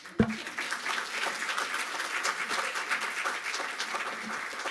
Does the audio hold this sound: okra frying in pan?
no